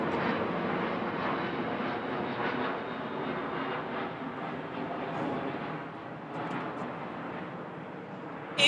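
An airplane passes overhead in Los Angeles, a loud, steady engine roar that fills the whole stretch and fades only slightly toward the end, with no voices over it.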